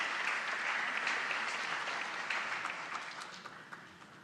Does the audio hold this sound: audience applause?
yes